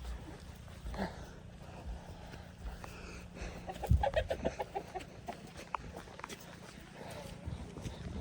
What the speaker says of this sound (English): Watch out for the rooster.